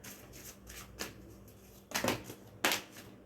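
A deck of cards being shuffled up close, a few quick papery riffles and flicks, the last two louder bursts standing out against a quiet room.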